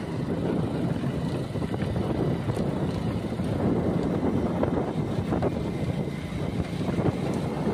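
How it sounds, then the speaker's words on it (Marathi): Strong wind blows hard against the microphone in a continuous, loud, rumbling roar with gusty swells and no pause. "बघा ना यार वारा बघ ना किती सुटला आहे."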